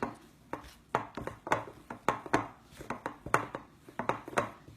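Sticky no-knead bread dough being stirred by hand in a bowl, a quick series of wet, rubbing strokes and soft knocks repeating in an uneven rhythm, close and moderately loud with no talking.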